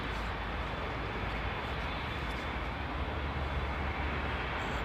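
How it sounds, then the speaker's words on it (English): A jet aircraft at Heathrow runway 09R produces a continuous, broad roar of engine noise that stays loud and steady throughout with no voices. "It's a rare jet."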